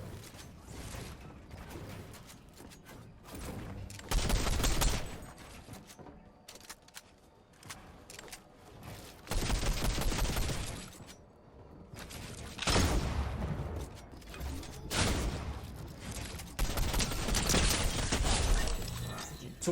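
Repeated bursts of shotgun fire from the prime shotgun in a competitive shooter's Season 4 placement cup, loud blasts clustered in several volleys with mechanical reload clicks and clatter between them, no talking.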